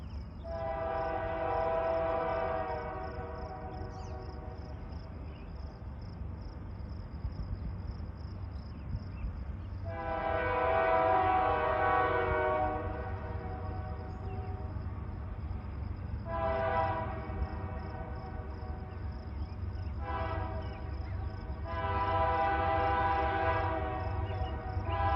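A Union Pacific freight train rumbles past steadily near Moyie Springs, Idaho, for the whole stretch, with a horn sounding in several long blasts over the low rolling noise.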